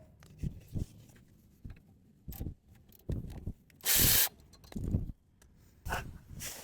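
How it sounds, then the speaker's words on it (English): Ratchet loosening the 14 mm guide pin bolts on a rear brake caliper of a 2018-2023 Hyundai Kona AWD, heard as short bursts of clicking and scraping in a quiet garage, with one louder hissing burst near the middle. "now let's take off the guide pin bolts, 14"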